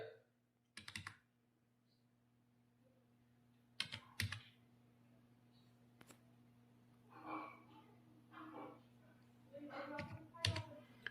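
Quiet, scattered keystrokes on a computer keyboard, entering a one-time password into an online KYC form, come in short bursts over a steady low electrical hum.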